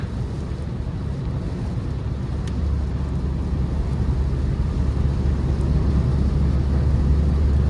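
Inside a 2017 Chevrolet Cruze LT sedan with the 1.4T engine on the move, steady low road rumble and wind buffeting fill the cabin continuously at a constant level.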